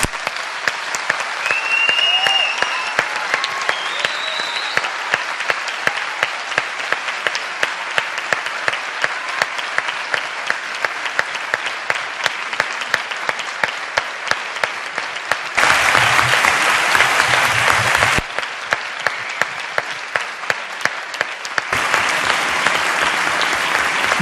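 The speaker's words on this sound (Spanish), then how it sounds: "Me juego lo que queráis a que ese aplauso no sale en la prensa" A university lecture hall audience claps at length: dense, even applause that holds steady, swells louder in two stretches, and is joined by faint murmurs near the start.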